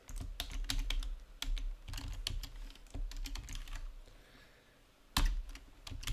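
Computer keyboard typing code during a Python data-analysis session: quick bursts of close, crisp key clicks with short pauses, one sharper louder keystroke near the end, no talking.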